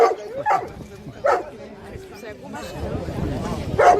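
A water rescue dog barks during a lakeside rescue demonstration, four or five sharp separate barks spread across the moment, close by, amid crowd murmur and a speaking voice.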